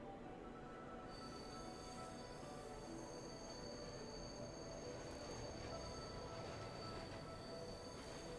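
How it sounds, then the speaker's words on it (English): Train pulling into a station in the video game Bright Paw, a continuous rumbling roll with high metallic wheel squeal ringing over it, steady and fairly quiet throughout. "In the distance, Theo could just about spot the station, approaching at a rapid pace."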